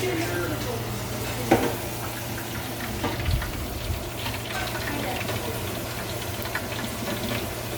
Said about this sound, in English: they're sizzling